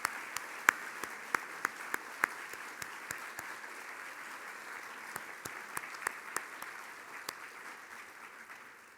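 Applause from an audience recognizing a board of directors at a Celebration of Impact gala evening, steady broadband clapping with scattered sharper individual claps, fairly distant and fading slightly toward the end, no talk over it.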